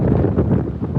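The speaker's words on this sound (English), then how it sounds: "Damn, not like that, but yeah, it is very windy." Strong wind buffets a microphone outdoors in England, a loud, steady low roar that gusts and rumbles for the whole second with no break.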